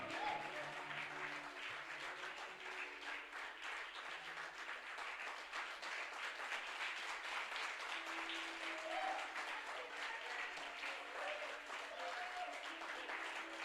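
A church congregation applauds and cheers in acclamation of Jesus during a worship service, with sustained dense clapping and crowd voices going on for over thirteen seconds without a break.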